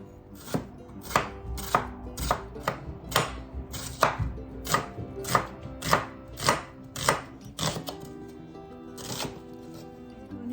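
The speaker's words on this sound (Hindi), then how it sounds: "और इसको हम फाइन चॉप करेंगे पतले पतले स्लाइस में" A knife chops onions into thin slices on a cutting board, with sharp, evenly spaced knocks following one another steadily and up close.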